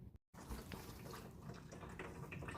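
Coolant draining from a Jeep Wrangler radiator into a catch pan, a faint steady trickle of liquid after a brief silent gap, low and continuous with no talk.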